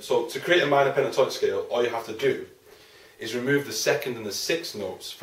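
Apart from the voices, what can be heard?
No everyday noises stand out.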